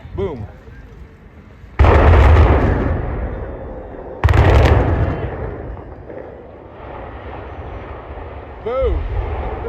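Explosive charges bring down the Beaver Stadium press box in an outdoor stadium demolition. Two loud, booming blasts a few seconds apart each roll into a long rumbling decay, with crowd voices underneath.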